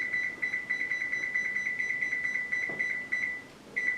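An oven timer is set and gives a fast run of high electronic beeps, close and clear. There is a brief pause near the end before the beeping starts again.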